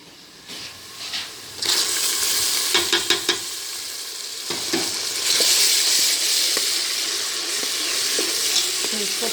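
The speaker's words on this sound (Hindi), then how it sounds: "ये मेरा प्याज ब्राउन हो चुका है। और अब हम इसमें लहसुन और अदरक का पेस्ट ऐड करेंगे।" Browned onions sizzle loudly in a pan as garlic and ginger paste is added for chicken korma, a steady frying hiss with scattered stirring clatter and a few sharp spoon knocks.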